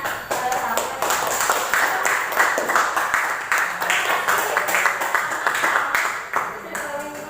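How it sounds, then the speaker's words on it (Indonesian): Classroom applause during an economics lesson on inflation, students clapping in a loud, lively, uneven patter that runs for several seconds close to the microphone, with some voices mixed in underneath. "Tepuk tangan untuk keberaniannya."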